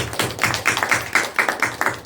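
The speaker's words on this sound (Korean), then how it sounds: "우리 다 같이 한 번 더 하나님께 영광의 박수 올려드립니다" A congregation claps in steady rhythm during a Christmas Eve Wednesday church service, with quick, evenly spaced hand claps repeating throughout at moderate loudness.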